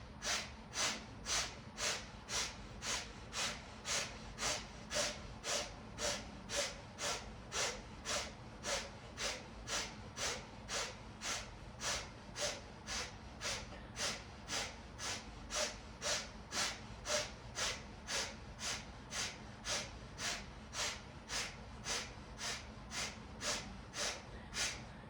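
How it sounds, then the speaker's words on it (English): Rapid, forceful nasal exhales of breath of fire in a kundalini yoga practice, a steady train of sharp, close snorting puffs repeating about twice per second without pause for the whole stretch, with no talking. "using the breath of fire, forcefully exhaling out the nose"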